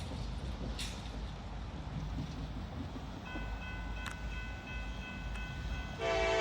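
A Norfolk Southern freight train with C35 locomotive power rumbles past at a distance under steady low rail noise, with a faint sustained horn tone entering midway and a brighter horn blast at the end.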